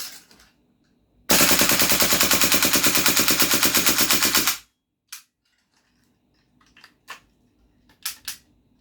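A loud, sustained burst of full-auto fire from a GHK AKMN airsoft rifle rattles for about three seconds, then stops, followed by a few faint clicks and knocks.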